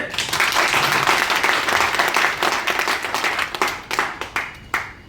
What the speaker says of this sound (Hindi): फूल के ताली बजाइए।